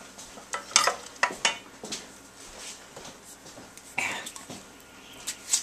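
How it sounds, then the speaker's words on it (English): Thick yogurt is being mixed into a bowl, with quiet, intermittent scraping and soft clinks of a utensil against the bowl in a calm room. "Okay, now we're going to mix in the yogurt."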